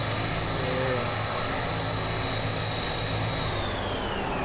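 A Thai Airways airliner coming in to land in the video game BeamNG.drive, its engines a steady, continuous jet roar with a high whine held throughout.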